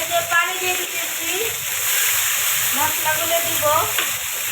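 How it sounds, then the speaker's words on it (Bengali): Water poured into a pan of sizzling chicken curry, a loud, bubbling hiss and stirring clatter continuing throughout, with a voice and a woman's speech faintly underneath. "তো আমি এখন পানি দিয়ে দিতেছি"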